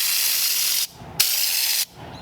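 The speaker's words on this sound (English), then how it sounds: "when you're spraying an undercoating or Raptor in this case" Spray gun applying Raptor undercoating to the underside of a 1932 Ford, loud hissing bursts that stop and start twice, with a brief quiet gap between sprays and no talking.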